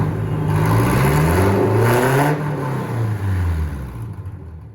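A car engine revs steadily and loudly at close range, its pitch climbing and falling in sweeping waves as the vehicle drives up onto a ramp. The engine then settles and fades toward the end.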